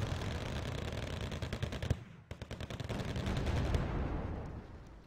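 Tanks and guns firing in the war strategy video game Wargame Red Dragon, a dense rattling barrage of shots and booms that breaks off briefly, then resumes with rapid bursts over a rumbling low roar.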